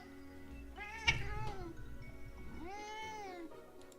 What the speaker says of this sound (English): What is with my cats today?